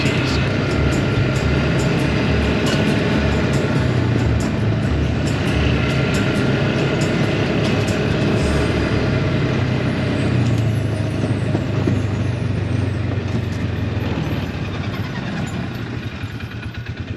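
A farm vehicle drives through an almond orchard, its engine a steady loud near rumble throughout, easing slightly toward the end.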